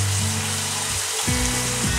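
Onion paste frying in a pan for a Bengali doi potol (dahi parwal) curry gives a steady, close sizzle that runs the whole time, with a faint low tonal hum beneath it and no talking.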